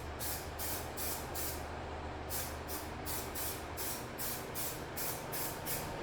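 Spray nozzle applying paint onto foam insulation panels shaped as mossy cobblestone walls, a steady hiss pulsing in short regular bursts, close and continuous over a low background rumble.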